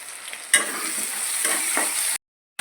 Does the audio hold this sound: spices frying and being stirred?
yes